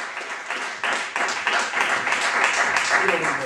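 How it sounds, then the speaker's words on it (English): A crowd claps and cheers for a performer at a live spoken-word show, steady dense applause filling the room throughout with voices mixed in. "clap it up for Paul."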